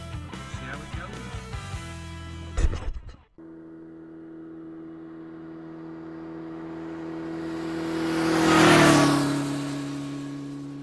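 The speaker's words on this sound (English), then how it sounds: "We're on our Honda PCX 125cc scooter, and we're just heading out the marina, and we're heading up into the mountains." A Honda PCX 125cc scooter riding out of a marina toward the mountains on Crete, its engine droning steadily as it builds to a louder pass near the end, preceded by a brief stretch of talk and clatter.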